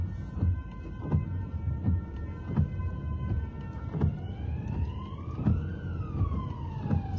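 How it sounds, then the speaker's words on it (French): An emergency vehicle siren rises and falls in the distance, with faint traffic and street noise beneath it and no talking. "j'entends quoi? Une sirène?"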